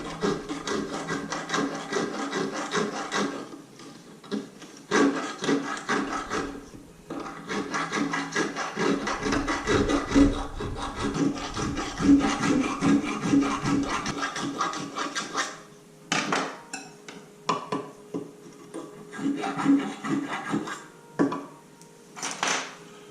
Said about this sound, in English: This rasp takes off material pretty quick